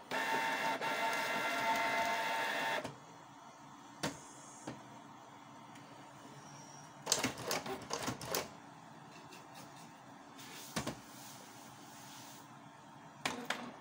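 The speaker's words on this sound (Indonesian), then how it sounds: "keluarnya ketika printer ini dihidupkan, mau dipakai ya, dinyalakan" A Canon G2020 inkjet printer powering up, a steady mechanical whir for about three seconds, then bursts of clicking and carriage movement in short rattling clusters, close and moderately loud with no talk.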